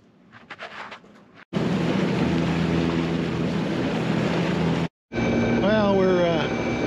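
A Beta diesel engine drones steadily aboard a Westsail 28 sailboat under motor, a loud continuous rumble that cuts out briefly, then resumes, with a person talking over it.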